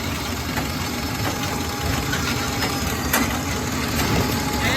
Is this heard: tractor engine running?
yes